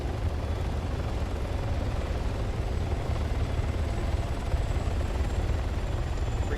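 A video game helicopter gives off a steady loud rotor chop and engine roar that fills the whole stretch without a break.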